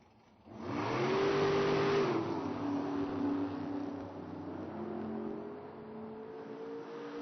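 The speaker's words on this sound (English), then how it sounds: "Another pair of Corvettes, Steve Ottley, Tower Side 63 vintage car, replica" A pair of Corvette drag cars, a replica '63 and an old '57-style car, launch and accelerate down the track at an IHRA Pro Am event, engines roaring up then holding a steady distant drone.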